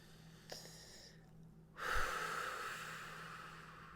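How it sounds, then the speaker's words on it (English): A single person takes a deep breath in and then blows out in a long, soft, steady exhale, quiet and close, with no talking. "take a nice deep breath and blow that bubble away"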